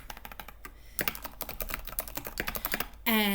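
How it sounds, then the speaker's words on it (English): Keys tapped on a computer keyboard in quick, uneven bursts of close clicks, with a brief pause early on and a different tonal sound cutting in at the very end. "I'm typing."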